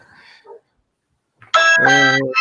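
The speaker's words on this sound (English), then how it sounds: "Ring that doorbell, Tel." A doorbell chime rings out loudly and close after a brief stretch of near silence, a bright multi-tone ding lasting about a second, preceded by a faint murmur.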